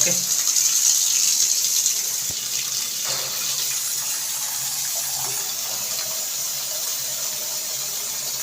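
Steady hiss of water running from a bathroom faucet during testing of newly installed piping, continuous and close, slightly louder at the start then settling into an even flow.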